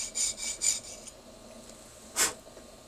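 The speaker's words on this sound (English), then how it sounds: "slowly we start sawing" Hand saw cutting slowly through a dental stone model, giving a few quiet rasping strokes close by, then a pause and one short, sharper scrape.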